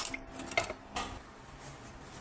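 Stirring sweet and sour sauce thickened with cornstarch and water in a pot: a few quick metallic scrapes and clinks of a utensil against the pot early on, then quieter faint rattling, close by.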